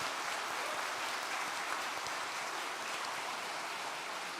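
A church congregation claps for its choir and orchestra, a dense, even wash of applause from many hands filling the room without break.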